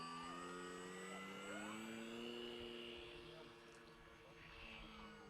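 An RC plane takes off from water: a steady, strong motor drone with rising and falling tones runs throughout, loud and close, with a voice speaking over it.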